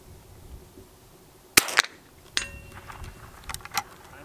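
Several sharp metallic rings from a Marlin Ballard .22 rifle striking a steel plate at a shooting range: a loud crack and ding near 1.6 seconds, then further pings and clinks trailing off, with no talk.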